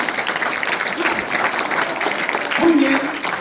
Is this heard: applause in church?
yes